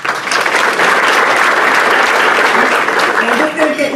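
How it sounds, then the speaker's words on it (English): Sustained applause from an audience at a business lunch economic forecast event, a dense, loud, steady clapping that fills the room throughout. "I'm going to get you to hold your applause"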